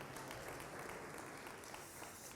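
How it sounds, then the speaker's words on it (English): Audience at an HR leadership summit applauding themselves, a sustained, even round of clapping heard from a distance in a large hall, fairly quiet overall and without talk. "I want you again to give yourself a round of applause for being here."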